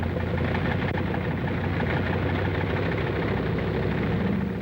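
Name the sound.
bomber aircraft engines warming up on airfield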